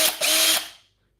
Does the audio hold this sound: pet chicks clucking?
no